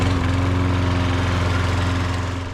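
A 2009 Toro SR4 self-propelled lawnmower, fitted with a new drive belt, runs steadily nearby with a constant droning engine hum and no voices.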